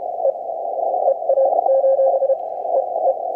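A Morse code CW signal received on a Yaesu FT-891 transceiver with narrow filtering: a strong, steady keyed tone sits inside a band of hissing static noise for the whole stretch.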